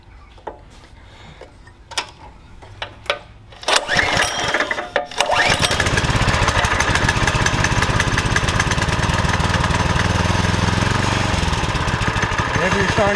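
A TrailMaster MB200 minibike engine is pulled over with a few sharp starter tugs, then catches and runs at a loud, steady idle close by.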